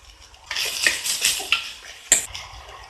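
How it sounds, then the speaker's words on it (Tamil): Chopped onions dropped into a hot pan and stirred for a cashew chicken fry, giving a burst of sizzling with several sharp clinks and scrapes of a utensil against the pan, close by with no talking. "இப்போ இதில் நம்ம இந்த வெங்காயத்தை போட்டுடலாம்."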